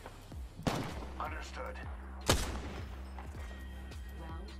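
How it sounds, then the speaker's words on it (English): Two heavy, booming shotgun blasts in the video game Apex Legends, spaced well apart over game ambience, with a brief spoken voice in between. "this guy's going in with a shotgun"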